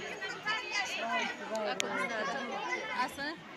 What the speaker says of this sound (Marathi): खूप लांबपर्यंत अशी गर्दी आहे लई लांब मंदिराच्या